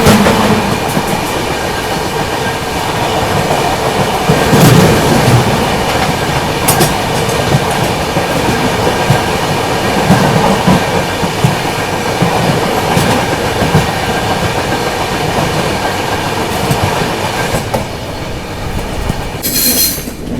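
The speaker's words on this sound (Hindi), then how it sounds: "क्रॉसिंग होने वाली है अपनी गोल्डन टेम्पल मेल के साथ" Paschim Express passenger train rolling past the Golden Temple Mail at a crossing, a loud continuous roar of wheels with rhythmic clickety-clack and occasional squeal, heard close and steady throughout.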